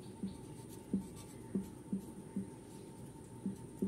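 A chemistry formula being written out by hand in a lesson, with soft irregular taps and scratches of pen or marker strokes, close and quiet over a faint steady hum.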